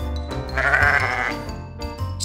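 Sheep bleating in a farm animal guessing game, a couple of wavering bleats close and clear, with no talk.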